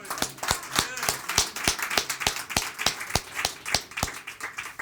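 A church congregation claps together in a steady, even rhythm of sharp, distinct beats about three per second, fairly close and moderately loud, with faint voices beneath.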